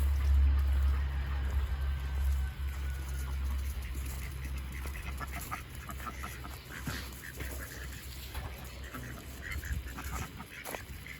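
Ducks quack intermittently, moderately close, over a steady low rumble of wind or handling noise, with scattered brief rustles and no talking.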